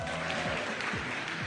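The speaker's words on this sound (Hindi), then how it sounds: "तालियां बजा के बताएं।" Studio audience at a Pakistani cricket talk show clapping in a brief, dense burst of steady applause, fairly even in loudness and without talk.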